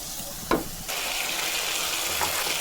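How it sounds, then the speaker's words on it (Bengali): Spice masala for a paneer and cauliflower curry fries with a steady hiss in the pan, interrupted by a brief scrape as it is stirred, then settles into continuous close sizzling. "দিয়ে মশলাটা আমি ভালো করে নেড়ে ভালো করে কষিয়ে নেবো"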